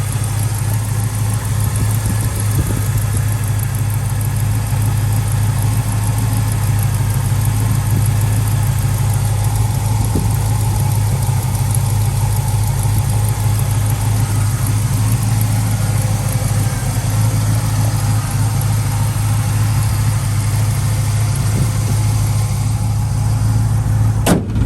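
A 1968 Pontiac Firebird V8 fitted with a Demon carburetor idles steadily up close, a smooth, even rumble that holds constant with no talk over it.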